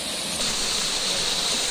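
Aanachaadi waterfall in Kerala, a steady close rush of falling water, loud broadband roar with a brightening hiss partway through, no voices.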